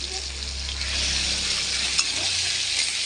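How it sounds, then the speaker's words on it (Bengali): A ginger and cumin paste fries in hot oil in a pan for a Bengali fish curry, giving a loud, continuous sizzle with faint stirring throughout. "এই মশলাটাকে এরকম ভালো করে ভেজে কষে নেব।"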